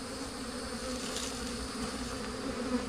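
A dense, steady buzz of honey bees around a small two-frame hive, close and continuous with no voices.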